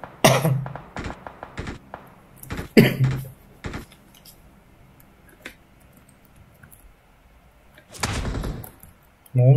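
Sharp gunshots from PUBG Mobile crack out in scattered bursts over about ten seconds, some loud and close, others fainter, with a heavier burst near the end and brief stretches of quieter background between.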